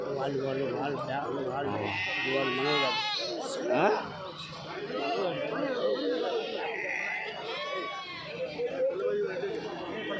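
Goats and sheep bleat repeatedly at a busy weekly livestock market in Kadiri, their wavering calls overlapping close by amid constant chatter and bargaining voices of buyers and sellers.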